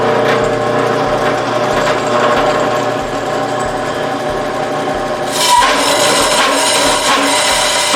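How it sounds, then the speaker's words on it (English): A steady motorized whine of a drill press running continuously, with a sharper grinding burst near the end as the bit bites into scrap wood. "I'm going to set this up in the drill press with another piece of scrap wood to cut it out"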